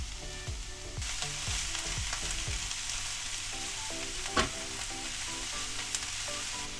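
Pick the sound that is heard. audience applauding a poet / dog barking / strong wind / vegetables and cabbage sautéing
vegetables and cabbage sautéing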